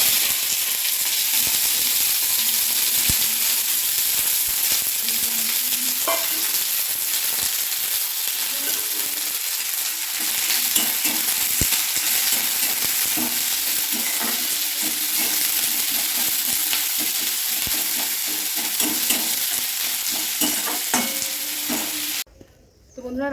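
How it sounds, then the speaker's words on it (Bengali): Onions frying in a pan with continuous loud sizzling and occasional stirring scrapes, steady throughout with no talk. "এই যে পেঁয়াজ ভাজছি।"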